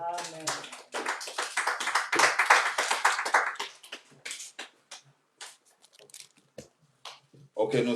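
A church congregation claps to acclaim the Lord, a busy patter of many hands with voices mixed in, swelling and then thinning into scattered claps and quiet before rising again.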